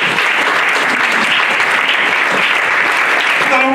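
Congregation applauding during an Easter Sunday church service, a dense, steady roar of clapping filling the space without pause from start to finish.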